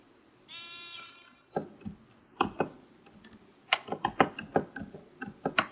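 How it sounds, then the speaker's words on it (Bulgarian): A sheep bleats with a wavering harmonic call in the video game Minecraft, followed by a run of short, sharp clicks and thumps from gameplay that grow denser and louder toward the end. "аз нещо чуя порастал овца"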